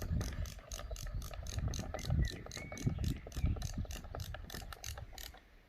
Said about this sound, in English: I'm hoping this will screw in nice and tight